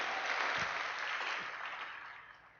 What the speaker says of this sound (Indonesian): Luar biasa, tepuk tangan dong.